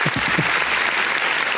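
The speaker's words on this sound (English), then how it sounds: "Round of applause." Brief burst of applause and claps from a small group during a podcast, close and fairly loud, rising sharply then holding steady for a moment.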